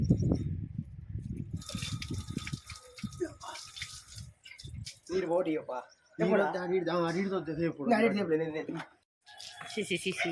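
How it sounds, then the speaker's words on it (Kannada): Water is poured over a dusty, brush-scrubbed solar panel to rinse it, giving bursts of splashing and running water near the start, followed by people talking. "ಈಗ ನೀರು ಹಾಕಿದ್ರೆ ಆಯ್ತು ಎಲ್ಲ ಹೋಗ್ತದೆ"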